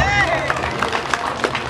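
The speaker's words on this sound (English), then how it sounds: "Let's give him a round of" Crowd clapping for an elementary school head at a barangay fiesta in San Marcelino, Zambales, a short burst of scattered, uneven claps with crowd noise, loud and close, amid background voices.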